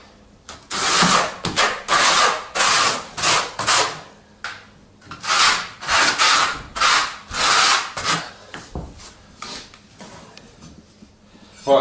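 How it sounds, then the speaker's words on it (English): A trowel spreads tile adhesive across a floor in a series of rhythmic scraping strokes, about a dozen close rasping sweeps with short pauses between them, and no talking. "So again, with a trowel, just work it away from the tiles."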